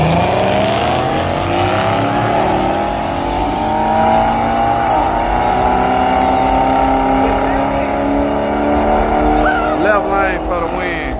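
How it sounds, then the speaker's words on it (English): An Infiniti G37 with an exhaust leak runs steadily at a car meet, its engine drone rising gradually and holding loud and close throughout, with a crowd talking over it. "This Infinity got an exhaust leak."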